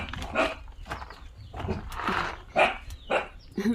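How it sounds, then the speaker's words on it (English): Puppies bark repeatedly in short, loud bursts as they run about outdoors, with some scrabbling and movement noise underneath; there is no speech. "That is Bunny, the puppies. I don't know why they are running on that side."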